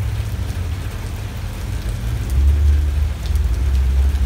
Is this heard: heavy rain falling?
yes